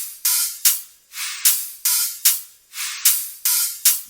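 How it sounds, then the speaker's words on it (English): A cut-up Sultan cymbal loop from a dubstep track plays alone: bright, hissing cymbal hits in a choppy repeating rhythm, some swelling in and some cut short, about ten hits over four seconds. "just the cymbals by themselves sound like this."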